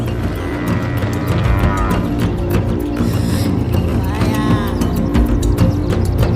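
Buffalo herd lowing and moving in the wild, deep moos rising over a dense, noisy outdoor bed with scattered clicks and rustles, loud and continuous.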